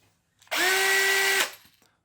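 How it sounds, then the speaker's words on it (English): A power drill whirs at a steady high speed for about a second, starting and stopping abruptly in otherwise quiet surroundings. "One of the comments suggested I just stuck an electric drill on that bit"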